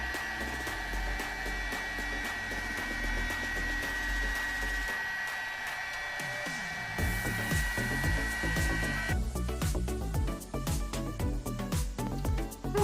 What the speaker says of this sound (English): I'm gonna use my heat gun and put a little bit heat on it so it can relax a little bit